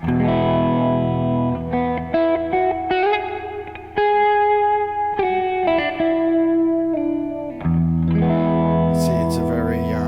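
Sustained distorted guitar chords ring out through a Keeley Zoma pedal's plate reverb, with a bright, dense wash trailing each strum and an airy shimmer swelling near the end.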